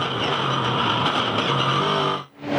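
A Ford Falcon V8 Supercar racing at the 2009 Townsville 400 street circuit, its engine roaring loud and close at high revs before the note drops sharply near the end as it changes down the gears.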